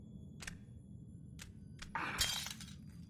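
Glass shattering in the Saw video game on PS3: a few faint clinks, then a sharp, bright smash with tinkling debris, heard alone over a low ambient hum.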